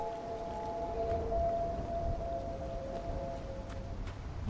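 A steady resonant tone from the 2021 Myst game, layered tonal lines held over a low rumbling ambient bed, continuous and moderately loud with no voices.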